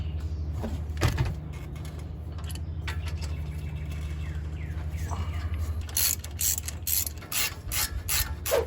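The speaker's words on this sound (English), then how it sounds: "We're going to remove an 18mm bolt right here, and then we need to remove this one here." A hand ratchet clicks away at 18mm brake bracket bolts on a Chevrolet Trailblazer during front wheel hub replacement, with steady pawl clicking throughout over a low hum and faster, louder ratcheting toward the end.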